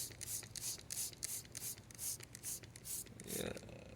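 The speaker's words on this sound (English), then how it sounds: "I'll give it a bit of a wet down spray bottle." A hand-pumped spray bottle mists a small juniper bonsai outdoors, giving a steady run of about a dozen short, hissing squirts in even rhythm, close and fairly quiet, with no talk.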